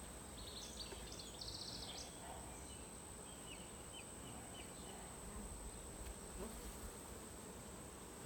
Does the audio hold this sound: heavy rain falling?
no